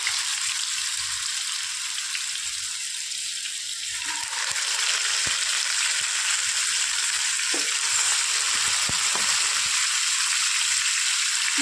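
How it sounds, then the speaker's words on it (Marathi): Pieces of vaam fish fry in mustard oil alongside potatoes, giving off a loud, steady sizzle and hiss that runs the whole time, with a few soft knocks from the pan and no voices. "आता त्यातच मी माशाचे पीस घालते फ्राय करायला"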